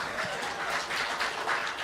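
A stand-up comedy crowd breaks into steady, sustained applause that fills the room evenly for a couple of seconds, with no voices standing out above the clapping.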